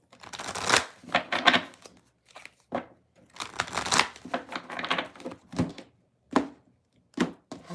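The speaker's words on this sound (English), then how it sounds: "You guys get to witness the shuffling that happens." A tarot deck is shuffled by hand during a live reading, with crisp riffling bursts and soft card slaps that come in irregular spurts and pause between shuffles. Nobody speaks.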